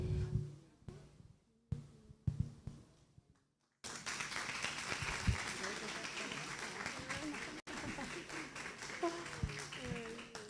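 Congregation applauding during a church service, with sparse claps and speech at first, then a sudden fuller burst of sustained clapping with voices mixed in.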